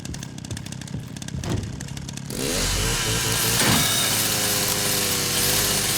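A chainsaw in the video game Resident Evil Requiem roars to life after a quieter stretch, then runs as a loud, sustained buzzing whine for the rest of the moment.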